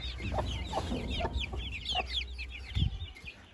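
Chickens cluck steadily close by, with soft repeated calls and higher chirps layered over low farmyard rumble; aseel fowl are among the birds, and no one speaks.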